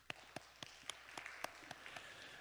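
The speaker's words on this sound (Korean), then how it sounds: "우리 박수 한번 칩시다" A church congregation at a Friday worship service gives a round of applause for parents, heard as a faint, spaced series of sharp claps, roughly one every quarter second.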